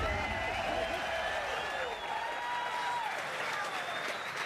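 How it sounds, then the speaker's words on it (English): Audience applause at a showbiz darts match, a steady wash of clapping from the crowd with a commentator's voice running over it. "Gets applause"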